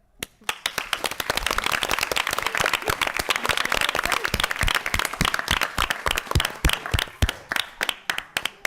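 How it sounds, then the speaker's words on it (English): Audience applause at a Wilmington city council meeting: a dense burst of clapping that swells quickly, holds steady, then thins into scattered individual claps near the end, loud and close. "let's give one more round of applause for all of our elected officials"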